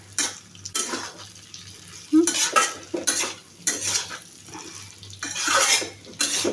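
A spatula stirs cabbage and tangra fish in a pan, making repeated scraping and clattering strokes in an uneven rhythm over a light sizzle of frying, close and fairly loud.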